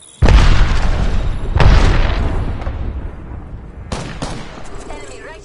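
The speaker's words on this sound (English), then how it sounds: "Look out. Grenade." A grenade going off in Apex Legends, a sudden loud boom followed by a second blast and a decaying rumble, with a further sharp crack near the end.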